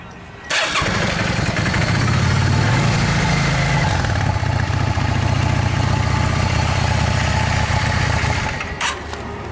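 A 2007 Yamaha V-Star Classic motorcycle with factory exhaust starts up and settles into a steady, loud idle, rumbling close by for several seconds before easing off near the end.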